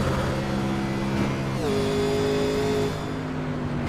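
A race car on its final lap, heard from onboard, drones with a steady engine note that drops abruptly partway through and then holds lower, continuous and close.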